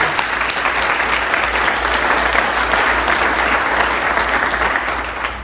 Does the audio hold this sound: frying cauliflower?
no